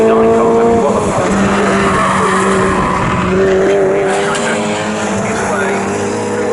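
Alfa 33 race car in close traffic during a crowded Tin Tops saloon race at Snetterton, engines droning loudly and continuously with shifting pitch, a brief tyre squeal, and a commentator talking over the pack.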